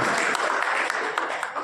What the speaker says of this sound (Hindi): एक बार जोरदार मंच के लिए तालियां बजाएं।